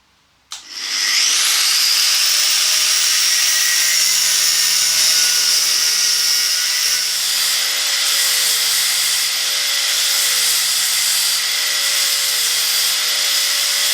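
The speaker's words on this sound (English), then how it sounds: "I'm just going to weld it all the way around." A welder runs continuously on a part of a Deutz 6006 tractor, a loud, close, steady hissing crackle that starts abruptly and holds for several seconds with only slight variation, with no one speaking.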